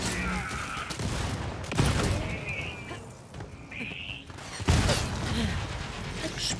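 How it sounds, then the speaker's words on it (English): Explosions and gunfire from combat in the shooter Borderlands 3, with loud broadband blasts near 2 and 4.7 seconds over steady battle noise and scattered mechanical clicks. "Explosion!"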